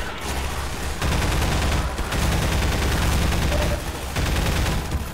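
Video game gunfire in Half-Life 2: Episode 1, loud and dense, with sustained automatic bursts and overlapping shots rolling on nearly without pause and only brief dips between volleys.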